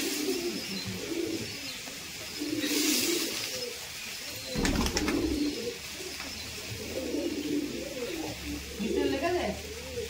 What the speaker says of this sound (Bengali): এই কালো পায়রাটা সাদা পায়রাটাকে তো এইসা করে ধরেছে